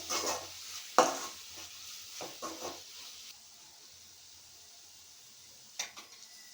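Fenugreek leaf curry with moong dal, seasoned with salt and chilli, frying in a pan: a faint sizzle with a few soft spoon scrapes over the first three seconds, then near quiet until one last light scrape.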